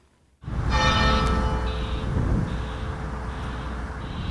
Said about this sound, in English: A muffled bell tolled mournfully as the funeral procession reached St Lawrence's Church.